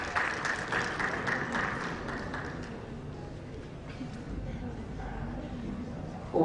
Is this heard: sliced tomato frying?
no